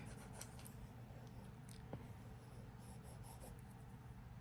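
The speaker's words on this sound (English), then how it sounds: "I have the paper-like screen protector on my iPad. So it really does feel and sound like I'm writing on paper." An Apple Pencil-style stylus scratches and scribbles on an iPad fitted with a paper-like screen protector, making soft close strokes in irregular bursts over faint background hum, with no talking.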